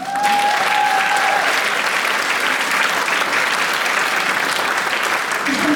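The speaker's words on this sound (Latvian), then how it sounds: "Skaļāks aplauss." An audience at a folk dance ensemble's 50th anniversary concert breaks into loud, sustained applause that swells quickly and holds steady, with a brief tone sounding at the start.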